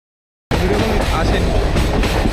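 Kolkata–Goa Amaravathi Express rolling along the rails, a loud, steady rumble with faint rhythmic clatter from the wheels, starting suddenly after a short silence.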